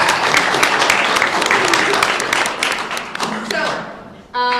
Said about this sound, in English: we can call for applause